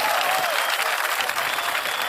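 An audience applauds at a political gathering, with dense, steady clapping from many hands that stays close and even for a couple of seconds, with a faint murmur of voices underneath.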